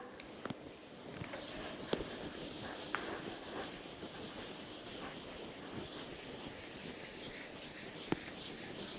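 A marker scratches and rubs across a board in short strokes during a lesson, faint and close in a quiet room, with a few small taps and no talking.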